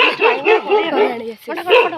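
A dog barks in a rapid string of sharp, close barks, about one every quarter second, with a brief pause before a final burst.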